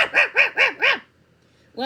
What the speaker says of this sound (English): Rascal just kept on barking and barking.